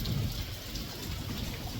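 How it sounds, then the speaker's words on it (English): Heavy rain pours steadily during a Midwest thunderstorm on the fifth day of downpour, a dense continuous hiss with low rumbling underneath, no voices. "we're on day like 5 of pouring down rain"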